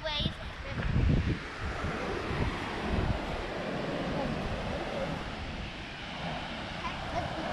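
Ocean surf and steady wind at Pinnacle Beach, a continuous broadband roar with a heavier wave surge near the start, with children's voices faintly mixed in.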